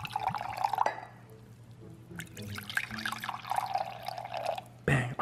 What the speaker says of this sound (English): Let's pour this in here.